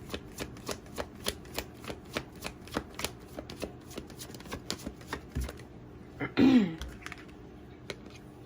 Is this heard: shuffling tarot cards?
yes